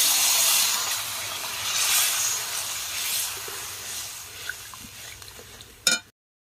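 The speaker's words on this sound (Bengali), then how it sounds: "দেখো ঝোল কি সুন্দর টকবক টকবক করে ফুটে এসেছে" Paneer curry gravy boiling in a wok makes a hissing, bubbling simmer, loudest at first, then gradually fading, with a short sharp knock just before it cuts off.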